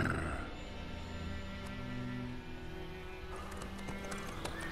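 Horse hooves clip-clopping in The Witcher 3 game, a steady rhythmic gait under continuous game music and ambience, with a brief whinny-like sound.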